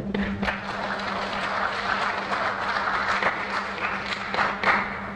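An audience applauding at an event at the Islamic Institute of Dakar, a steady patter of many hands clapping, fairly close and continuous for several seconds.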